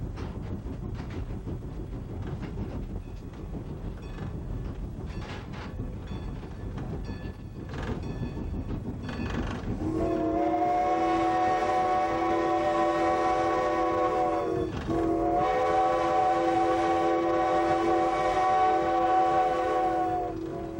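A steam train rumbles along with steady mechanical clatter on the Strasburg Railroad. Then a long, loud whistle blasts twice, with a brief break between them.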